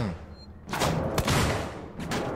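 Loud gunfire in a shooter video game, a few sharp shots and a thudding blast bursting out over a quieter start, close and punchy.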